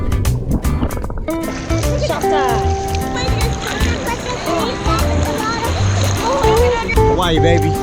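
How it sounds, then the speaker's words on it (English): People splash into warm, glassy ocean water off Oahu, Hawaii, with loud splashes and sloshing up close while children and adults shout and talk over the water noise. "Jumping into the warm, glassy ocean was refreshing"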